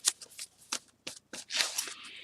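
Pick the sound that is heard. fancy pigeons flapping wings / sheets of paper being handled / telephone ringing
sheets of paper being handled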